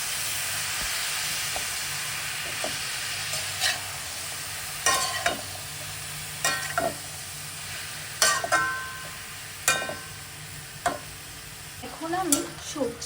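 Spinach stirred in a frying pan with sautéed vegetables and spices, a continuous sizzle broken by repeated scraping strokes of a spoon that come more often toward the end.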